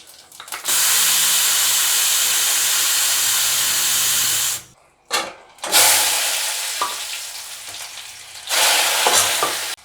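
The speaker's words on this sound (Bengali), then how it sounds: "সিটিটা পুরো বের করে দেবো।" A pressure cooker whistle blasts out steam during mixed vegetable curry cooking: a loud, sustained hiss for several seconds, a brief gap and sputter, then renewed forceful hissing that gradually tapers before surging again.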